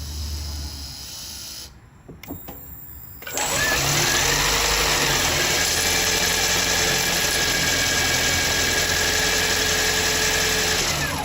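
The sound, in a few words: four-cylinder car engine starting and idling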